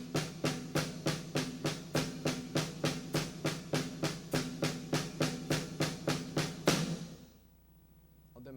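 Paradiddle variation on drums, right-right-left-right-left-left-right-left beginning on the double stroke, crisp even strokes in a fast steady stream, close and loud, then stopping abruptly into a faint room tail.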